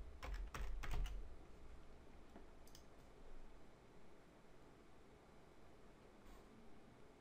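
Login credentials typed on a computer keyboard during network storage setup: a quick burst of fairly close key clicks at the start, then sparser faint taps against low background hiss, with no talking.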